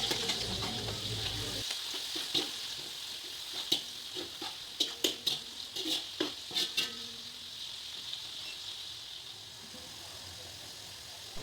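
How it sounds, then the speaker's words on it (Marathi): Onions sizzling and frying in a pan for Diwali poha chivda made with thin poha, a steady hiss with scattered stirring clatters and pops, close and alone. "मी 3 मोठे कांदे घेतलेले आहेत. तुम्हाला जर जास्त आवडत असतील तर तुम्ही जास्त पण कापू शकता. यांना व्यवस्थितपणे आपण फ्राय करून घेऊया."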